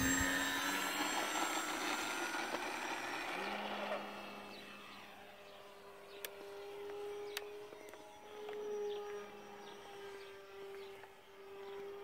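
Racestar 1400KV brushless motor under throttle on a model aircraft in flight, a sustained whining drone that shifts pitch as it climbs away, steady and moderately distant with a few sharp ticks, no talk.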